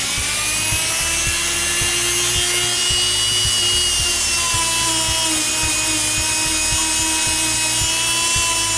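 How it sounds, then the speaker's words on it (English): A Dremel rotary tool fitted with a felt buffer tip runs continuously with a steady high whine and a rapid rhythmic ticking underneath, close and loud throughout with no talk. "You can take a Dremel tool with a felt buffer tip like this on there"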